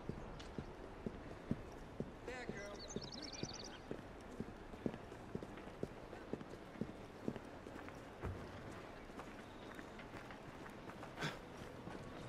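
Horse hooves clip-clopping at a steady trot in the video game Assassin's Creed Syndicate, fairly faint and repeated over ambient game noise, with a brief snort or whinny early on.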